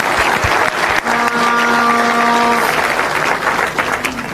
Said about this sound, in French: Ils méritent tous nos applaudissements.